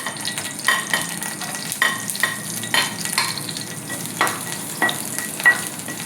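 Ginger, garlic and slit green chilies sautéing in a pan for a vegetable stew, a steady sizzle broken by repeated scraping stirs at an irregular rhythm.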